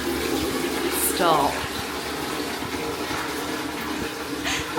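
A toilet in Nice, France flushes with a rushing swirl of water that runs steadily through the whole moment, with a brief spoken word over it.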